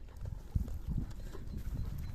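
Horse hooves clip-clop in an uneven rhythm on hard ground at a horse sale in Pechenizhyn, Ukraine, fairly quiet and a little distant.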